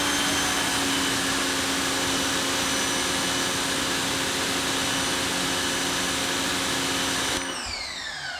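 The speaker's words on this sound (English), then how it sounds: "first test, 0-degree nozzle" Westinghouse EPX3050 electric pressure washer sprays through a 0-degree nozzle, a loud steady motor whine and hissing jet running continuously before cutting off abruptly near the end.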